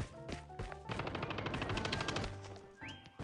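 Video game gunfire rattles in a sustained automatic burst, fairly quiet in the mix, with a few separate shots before it and a rising synthetic tone near the end.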